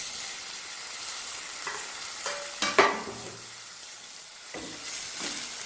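Tomatoes frying in a pan for sardine curry, a soft low sizzle with a few stirring scrapes and one sharper clatter near the middle, fairly quiet and close.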